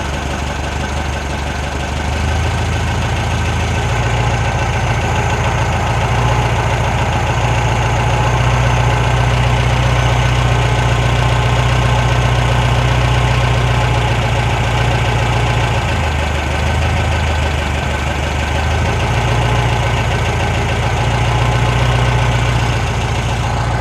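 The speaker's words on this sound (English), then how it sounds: "I'm going to try to get this carburetor and engine sound happy." A 1973 VW Thing's 1600cc air-cooled engine idles steadily after a carburetor adjustment, a loud, continuous low rumble with a slight rise and dip in speed partway through, close by and with no talking.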